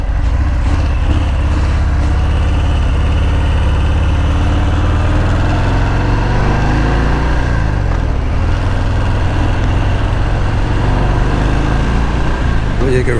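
A cruiser motorcycle engine pulls off idle with a deep, steady low rumble and throaty revving, heard up close while riding with wind noise mixed in.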